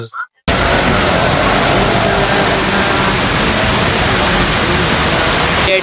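Heavy rain pours down in a dense, constant roar that fills the scene. It begins abruptly after a brief quiet moment and cuts off near the end.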